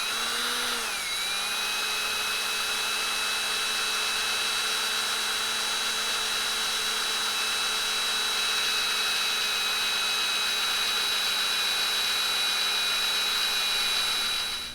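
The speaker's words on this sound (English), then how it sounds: "He's going to go ahead and start drilling out his mark." A power drill runs steadily with a high whine, boring a mark into a billet clip-on throttle-side race bar for a Honda Grom, continuous and close for the whole stretch after a brief pitch dip at the start.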